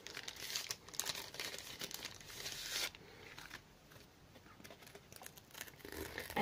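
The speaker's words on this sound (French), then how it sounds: "Et maintenant nous allons placer nos bandes." Adhesive strips being handled and pressed onto a handmade Gorjuss shaker card, giving close, soft crinkling and peeling rustles that are busier at first and then quieter, with no talking.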